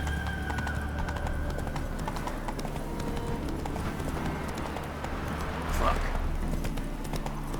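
Roach the horse galloping in The Witcher 3, steady rapid hoofbeats close by under continuous ambient game sound, with a voice speaking over it.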